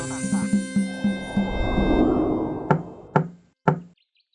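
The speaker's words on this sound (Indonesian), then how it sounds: "Terdengar suara ketukan pintu." Three sharp, distinct knocks on a door ring out near the end, following a swell of music with a tapping rhythm.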